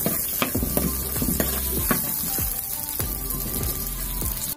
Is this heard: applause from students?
no